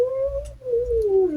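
A cat gives two drawn-out meows in quick succession, close and clear, the second call longer and sliding in pitch.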